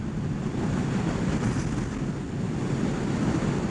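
Wind roars steadily and loudly across the microphone on a Ninja 1000SX motorcycle while riding, a dense, unbroken rushing noise with no voices.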